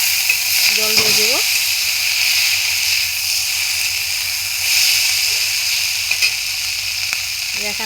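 Water hits a hot pan of spices, onion, garlic and ginger and sizzles in a steady, close hiss, with a short clatter near the start and no clear talk.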